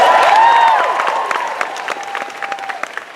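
A live audience at a Star Wars Weekends 2015 stage conversation with Frank Oz breaks into loud applause. A few whoops rise at the start, then the clapping thins into scattered claps.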